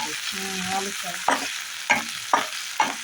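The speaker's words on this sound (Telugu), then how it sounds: "నెయ్యి ఇప్పుడు కలుపు కలుపు" A spatula stirs an aloo potato curry with ghee in a pan, making a steady sizzle and four distinct scraping strokes in the second half, close and fairly loud, preceded by a brief voiced sound.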